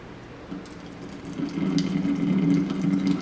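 Water from cooked noodles is poured off by tipping the pan without a strainer, producing a steady close splashing pour that swells louder partway through, with no talking.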